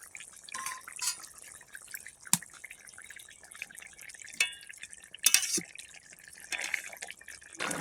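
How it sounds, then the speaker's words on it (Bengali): A pot of bottle gourd curry simmers, giving off soft, quiet bubbling and dripping sounds, broken by a few sharp clinks and brief splashy bursts. "এই সেদ্ধ হয়ে গেছে তরকারি ফুটতেছে"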